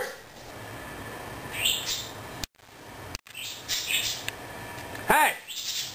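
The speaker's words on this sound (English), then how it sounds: "Damn birds!" Birds chirp and squawk in short bursts close by, with a few sharp calls standing out over a background hiss, while a person speaks intermittently between the calls.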